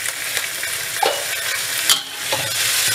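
Onion and tomato sauté in a pan for a fish dish, a steady bright sizzle broken by several scraping stirs of a spatula against the pan, close and clear, with no voices.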